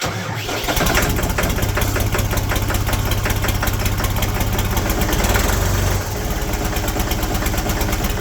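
A Toro S-200 snowblower with a six-year-old battery cranks, catches and runs steadily, its small engine loud and close with a brief throttle burst near the end.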